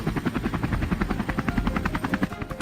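A hunting helicopter lifting into the air gives a close, loud, steady rotor chop, pulsing rhythmically throughout with an engine whine beneath.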